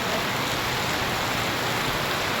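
Steady rain pouring down at the Junagadh market yard, a continuous dense hiss with no breaks, moderately loud and close.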